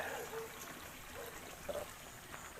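Water flows from a pipe toward a rice field, a soft continuous trickle and gurgle heard faintly among broadband outdoor noise.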